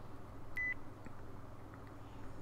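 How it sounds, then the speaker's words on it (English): A single short electronic beep sounds once, clear but quiet, over a low steady rumble of heavy earth-moving machinery in the distance. "I did not mean for that beep to happen."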